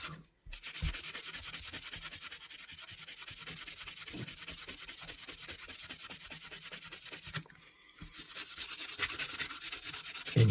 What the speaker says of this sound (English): I'm using 400 here, and I'm just going to give it a quick rub just to get rid of the rough spots.